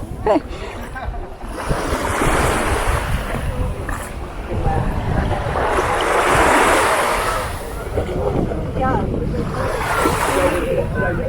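Ocean surf on a beach in Jamaica rolls in loud, broad surges every few seconds. Wind buffets the microphone throughout.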